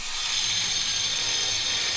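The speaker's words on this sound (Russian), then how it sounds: "он продолжает работать с болгаркой" A continuous high-pitched grinding whine from an angle grinder cutting steadily on a construction site, harsh and loud, with no voices.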